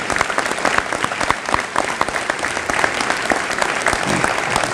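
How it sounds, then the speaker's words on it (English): A steady burst of audience applause at a 2017 high school graduation ceremony, many hands clapping together at a constant level throughout, with no talking over it. "How about a round of applause for all the teachers that helped them get here?"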